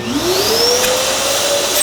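A shop vacuum runs with an Oneida AXD000009 Dust Deputy cyclone attached, a steady loud whine with a slowly rising pitch that holds throughout, no talk over it.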